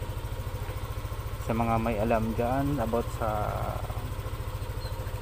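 A Yamaha Aerox 155 version 1 scooter engine idling nearby, a steady rapid low putter that continues under a voice and then carries on alone.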